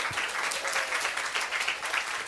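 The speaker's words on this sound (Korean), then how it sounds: "하나님께 박수 올려드립니다" A church congregation claps steadily for God during a Korean Sunday worship service, a dense, continuous wash of many hands that holds an even level throughout.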